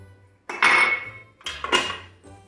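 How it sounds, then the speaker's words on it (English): Sourdough starter, homemade vanilla and sugar being whisked in a bowl for Ukrainian poppy seed rolls: two loud, close bursts of rapid whisk scraping against the bowl, each lasting under a second, with no talk. "let's whisk"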